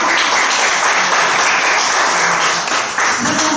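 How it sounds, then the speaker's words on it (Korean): Loud, dense applause from a gathered congregation at a Sunday dharma service in a Buddhist meditation hall, steady and sustained for a few seconds. "박수 한번 드릴까요?"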